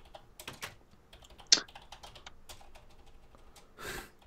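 Computer keyboard typing during Minecraft play: quick, irregular clicks and clacks of keys close up, with short bursts and pauses and one sharper tap standing out.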